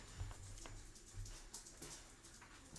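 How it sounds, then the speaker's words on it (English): Pet dogs whimpering and fussing indoors, with several short, soft whines and low grumbles spread across a quiet background, faint and fairly close. "my dogs are getting a little fussy"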